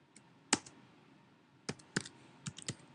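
A handful of sharp computer keyboard keystrokes, clicking sparsely and irregularly at close range against a quiet room, with no talking.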